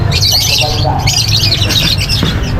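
Pet birds at a seller's place, including lutino and cremino opaline lovebird types, squawk and chirp continuously in a busy overlapping chorus, with voices murmuring underneath.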